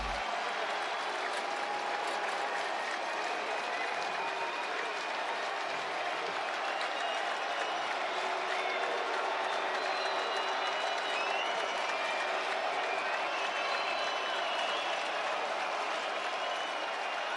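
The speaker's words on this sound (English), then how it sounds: "Loudest this crowd has been all afternoon now." A packed college football stadium crowd at a Buffalo vs Northern Illinois game roars and claps in a loud, sustained wall of noise, with scattered whistles and shouts rising above the steady din throughout.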